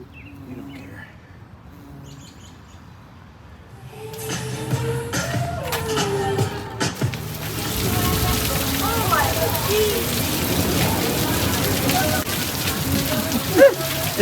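Rain falls outdoors, starting quiet and building into a steady dense patter on surfaces, with occasional bird chirps and some handling noise and movement nearby.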